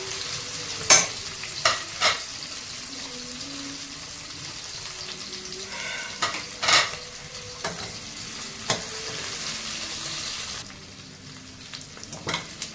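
Onion slices and slit green chillies fry in a pan for a vegetable biryani, a continuous sizzle with scattered sharp pops and occasional scraping stirs, close and fairly loud, no voices.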